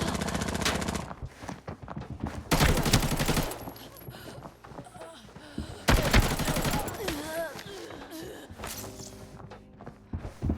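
Bursts of gunfire from T5-grade bullets being tested in the shooter game Arena Breakout, with loud rapid volleys in separate bursts and quieter mechanical clicks and handling sounds between them.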